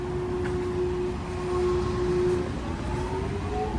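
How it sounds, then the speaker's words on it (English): A three-car Hiroden tram passes on a Hiroshima street. A steady low rumble carries a sustained tonal whine that holds throughout, sounding fairly close and continuous with no talking. "Okay, so there's a 3-car Hiroden train."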